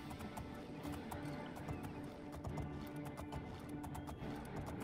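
A horse gallops in the video game Oblivion with rapid, rhythmic clip-clop hoofbeats, steady and fairly close, continuing throughout over a game soundtrack.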